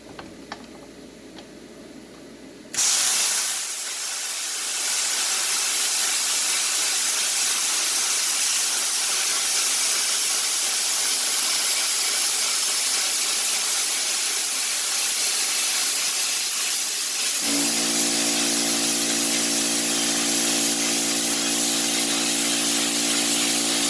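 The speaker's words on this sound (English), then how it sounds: "I apologize for the compressor kicking back on while this is happening" An air compressor kicks on in a shop during plasma cutting on a 2000 Toyota 4Runner SR5 armor project, a loud steady hiss joined partway by a strong droning motor hum.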